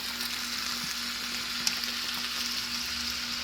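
Cabbage, onion and bacon standing in for pork belly sizzle steadily in a hot pan for yakisoba, a constant close hiss of frying with a faint hum underneath and no voices.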